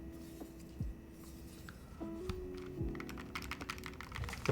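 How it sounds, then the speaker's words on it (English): Typing on a tray-mount Holy60 mechanical keyboard whose plate rattles, giving a steady run of clicky keystrokes with a loose, metallic buzz behind them, close and moderately quiet. "The plate makes a rattly sound."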